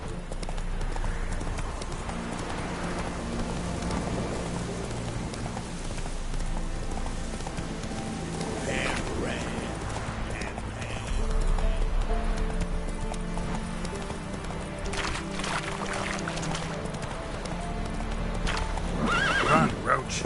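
Roach, Geralt's horse in The Witcher 3, galloping with steady rhythmic hoofbeats and an occasional whinny, amid game music and a voice talking over it.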